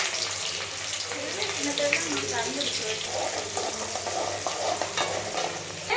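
Fenugreek seeds and shallots fry for a fish kulambu with a continuous close sizzle and soft stirring, while a faint voice murmurs in the background.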